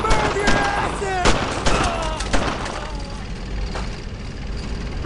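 Sharp gunfire bursts crack repeatedly in the World War II shooter Brothers in Arms: Road to Hill 30, clustered early then thinning out under a rumbling battlefield backdrop, with voices at times.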